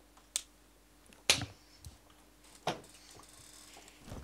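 Claptrap, the robot from the Borderlands video game, gives a single clap: a few crisp, sharp smacks spaced over a couple of seconds, close and dry against a quiet background, with no talking.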